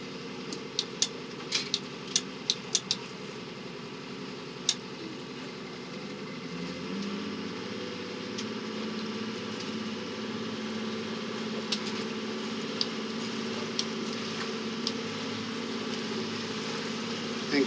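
An Evinrude E-TEC G2 300 hp HO two-stroke outboard motor hums steadily at low throttle, its pitch shifting partway through as the revs change, with a few faint clicks early on.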